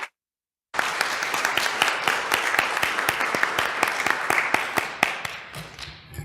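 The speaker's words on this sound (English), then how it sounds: "Please join me in another round of applause for our presenters" An audience applauds after a keynote address at the 5th Annual Social Service Workforce Strengthening event, with dense, steady clapping from many hands that starts abruptly after a short silence and continues loud and even.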